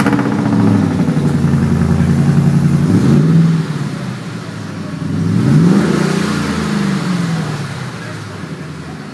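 A 590-horsepower 2013 Ford F-150 Roush pickup truck engine revs hard twice, each rise climbing in pitch then dropping back to a deep, loud rumble close by.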